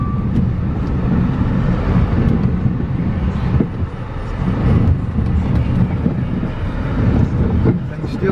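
A 2015 Dodge Dart with a 2.4-liter engine backs up in reverse during a transmission test, its continuous rumbling engine and drivetrain noise swelling slightly midway.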